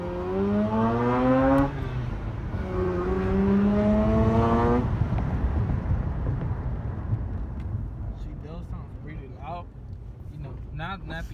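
A Mazda RX8 with a repaired exhaust revs hard twice in rising sweeps, close and loud, then settles to a rough rotary idle while someone talks over it.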